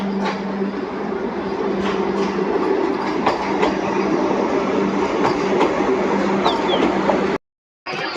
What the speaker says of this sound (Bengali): ফাইনালি 1 ঘন্টা লেটে আমাদের ট্রেন ঢুকেছে।